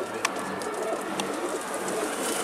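A pigeon coos softly amid outdoor ambience, with a couple of brief sharp sounds and steady background noise.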